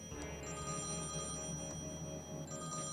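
A broken payphone with a glued coin slot and missing buttons rings insistently in the Thimbleweed Park point-and-click adventure game, its bright bell tone repeating steadily over a low electronic hum.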